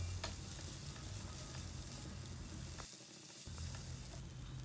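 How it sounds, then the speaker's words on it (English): Sliced onions and spring onion whites stir-fry in hot oil with chili flakes, a dense, even sizzle continuing throughout with a few faint spatula scrapes, close and fairly quiet. "Next into this we will add some sliced onions as well as the white part of the spring onions. We'll give a quick stir."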